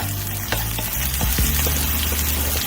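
Garlic added to vermicelli frying in a pan for Mexican fideo, giving a loud, close sizzle with a few stirring scrapes; a steady musical tone plays underneath.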